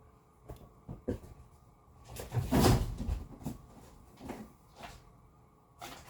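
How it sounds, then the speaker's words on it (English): Cardboard boxes knocked around, irregular hollow thumps and bumps with a louder rumbling shuffle in the middle, close and moderately loud, alone without talk. "Stop knocking the boxes around, Beans."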